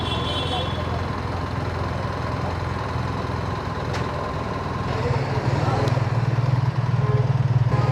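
A BMW 900 GSA adventure motorcycle engine rumbles steadily at close range and gets a little louder and deeper toward the end, while a voice talks over it.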